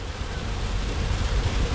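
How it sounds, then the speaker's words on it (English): Heavy rain from a sudden downpour hammers a moving car, a dense, steady roar of broadband noise with low rumble underneath, loud and continuous with no talk. "And it is a sudden downpour."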